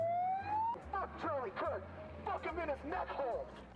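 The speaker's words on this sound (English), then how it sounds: "he's got the siren going on the thing." A siren wails from a megaphone at a public gathering, rising tones that give way to rapid warbling bursts, moderately distant and mixed with a low rumble and some voice-like sound.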